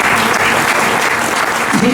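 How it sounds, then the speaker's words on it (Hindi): Loud, dense applause from a crowd at a religious gathering in honour of Swami Dayanand, a steady wash of clapping with a voice faintly audible over it. "एक बार स्वामी दयानंद जी के लिए जोरदार तालियां"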